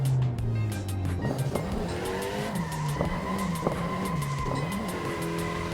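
A tuned Mitsubishi Evo 6 braking hard on a race track, engine note dropping through gears with rasping downshift revs and brief tire noise, loud and close throughout.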